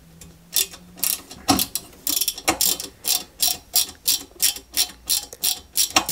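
Small screws driven into a 1961 London Routemaster RM857 model bus kit: a steady run of close, dry ratcheting clicks from a screwdriver, evenly paced and growing regular toward the end.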